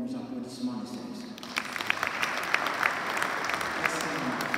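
Applause swells from a crowd at a funeral, steady clapping building after a brief moment of talk at the start.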